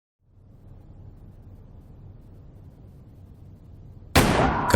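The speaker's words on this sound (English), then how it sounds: "Gunshots." A sudden loud gunfire burst in the Adam Wolfe: Flames of Time game erupts after several seconds of low, dark ambient rumble at night, harsh and sustained to the end.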